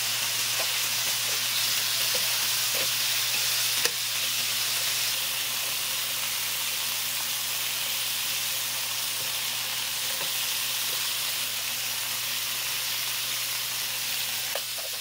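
Pork ribs sizzle steadily in a hot frying pan for pork rib steak, a dense continuous hiss with faint occasional pops and a low background hum, no voices.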